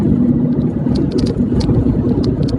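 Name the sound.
highway traffic heading to Bombay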